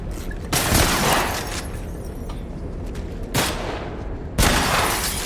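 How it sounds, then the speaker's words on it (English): Enemy gunfire in The Last of Us Part 1, a few sharp shot bursts standing out over a dense, continuous game soundscape of rumble and clatter. "You see the guy shooting at you?"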